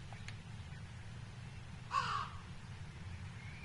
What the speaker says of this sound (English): I hear a raven.